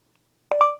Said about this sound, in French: Parler après le bip.